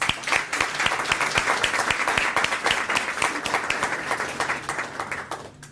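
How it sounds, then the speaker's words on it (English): A school audience gives sponsors a steady round of applause at a Student of the Month event, dense clapping from many hands that holds for several seconds before tapering off at the end. "let's give them all a great round of applause"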